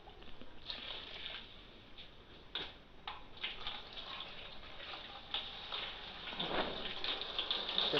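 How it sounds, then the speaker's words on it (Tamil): Water is poured into a homemade Bernoulli free-energy device, giving a steady faint splashing trickle with small irregular drips and taps, close and quiet, and no talking. "இப்போ நான் தண்ணி ஊற்றி காட்டுறேன்."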